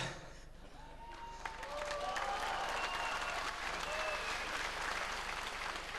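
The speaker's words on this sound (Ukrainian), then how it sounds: "А, а чого так мало плескаєте?" Audience clapping at a sketch-comedy stage show swells after a brief dip and then holds as a full, steady patter, with scattered voices and a few tonal squeals mixed into it.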